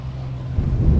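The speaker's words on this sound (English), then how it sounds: "It is really windy." Steady roaring wind on open sea buffets the microphone over a low skiff engine rumble, growing louder and gustier toward the end.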